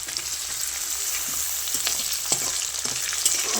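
Onion and tomato sautéing in a pan for a Tamil Nadu style fish curry with raw mango, a continuous soft sizzle with occasional stirring scrapes and light taps.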